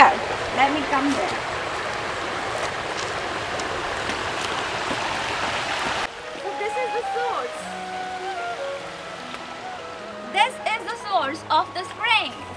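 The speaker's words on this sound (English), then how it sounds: "This is a spring, and this entire water that you see is coming from there." A natural spring in a St. Louis County park in Chesterfield flows with a steady rushing babble for about half the clip, then drops away as a person talks nearby.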